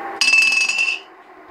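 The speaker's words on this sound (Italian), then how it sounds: "lanciamo il vaso" A vase thrown and smashing in the Granny video game: one sudden, bright glass shatter with a ringing tinkle that fades after under a second, alone and fairly loud.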